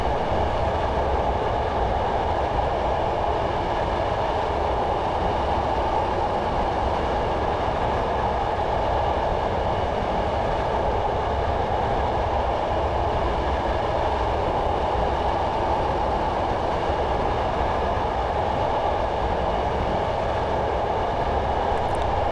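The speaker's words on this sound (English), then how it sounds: "just allowing the train to coast along here in idle power, we're actually pretty much maintaining 50" A Class 111 diesel multiple unit coasts at idle power at about 50 mph on the Dumfries to Kirkcudbright line in Train Simulator 2015, giving a steady, unbroken rumble of running gear and rail noise throughout, with no voices.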